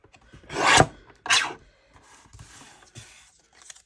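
Scrap cardstock, not very thick, being cut down to a narrow strip for junk journal trim; two loud rasping strokes up close, followed by several fainter scraping passes.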